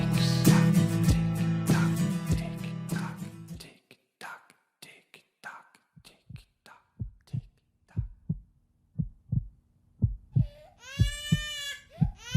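A heartbeat beats as steady, evenly spaced low thumps. It emerges after a dense musical passage fades out, and a high, wavering infant-like cry rises near the end.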